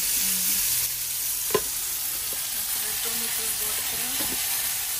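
Chicken cooking with bottle gourd sizzles steadily in a pan, a continuous close frying hiss broken by one sharp clink of a utensil partway through and soft scraping from stirring.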